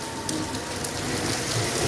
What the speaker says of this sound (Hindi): बाकी बारिश की स्पीड चेक करें आप, एकदम जो है ना स्पीड तेज़ हुई है बारिश की।